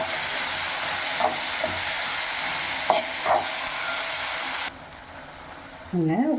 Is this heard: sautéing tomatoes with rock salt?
yes